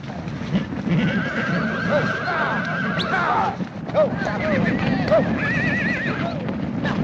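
Horses whinny repeatedly with hooves clattering underneath, amid a loud, chaotic scene in a Western film with voices shouting over the commotion.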